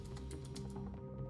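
Rapid clicking keystrokes on a computer keyboard, a quick close burst of taps with no talk over them.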